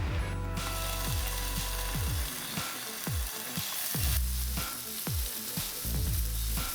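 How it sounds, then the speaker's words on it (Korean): Halved bacon strips fry in a pan, giving a loud, close sizzle and crackle that never lets up, broken by regular clicking scrapes of a utensil moving the pieces. "베이컨을 구워주시면 됩니다"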